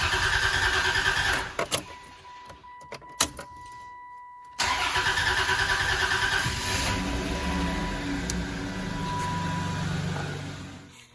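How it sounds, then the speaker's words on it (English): A Dodge Intrepid engine cranks in short bursts after the fuel pump primes, with pauses and clicks, then catches and settles into a steady, loud idle close by, with no talking. "it'll probably take a teeny bit of time for it to start just because it's got to build fuel pressure"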